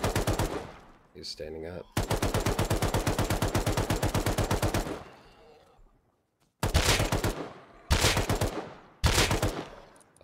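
Rapid automatic fire from an LR rifle in the game Rust, long evenly spaced bursts of loud close shots separated by brief pauses, with a short spoken remark early on.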